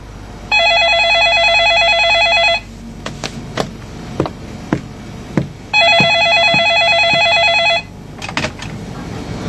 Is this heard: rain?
no